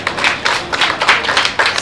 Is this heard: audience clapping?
yes